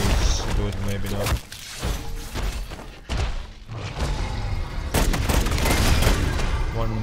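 Rapid pistol fire in MW3 Zombies comes in dense bursts of loud cracking shots with short pauses between them, mixed with game effects and a person talking.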